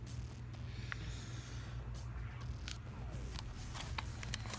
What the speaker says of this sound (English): Yeah, you guys just heard me sniff and go, mmm.